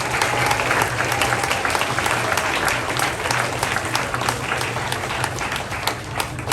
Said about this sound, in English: A round of applause for your teachers